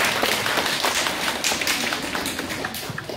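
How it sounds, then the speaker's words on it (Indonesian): A crowd of people at an inauguration celebration for an Indonesian foundation and cooperative clap their hands, dense, lively applause that fades slightly near the end, with no talking. "Tepuk tangan ya Romino"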